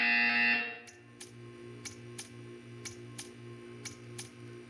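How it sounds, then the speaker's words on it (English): A loud electronic buzzer in the video game Portal 2 sounds for under a second, then quiet ticking clicks repeat steadily over a low hum. "You will hear a buzzer."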